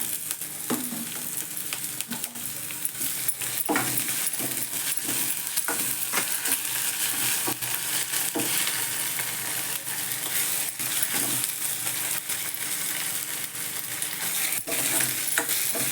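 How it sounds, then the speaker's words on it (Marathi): Tomato masala paste frying with onion and curry leaves, a continuous close sizzle and bubbling with frequent clicks and scrapes of a spoon against the pan throughout. "कांदा कढीपत्ता घातला आता हे टोमॅटो वाटण वाटलेलं मसाला घालतो"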